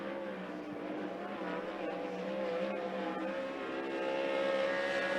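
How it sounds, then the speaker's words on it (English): A 360 sprint car runs a qualifying lap at Skagit Speedway, heard faintly from a distance as a steady, high engine drone that swells slightly as the car comes around. "the first lap for Reynolds"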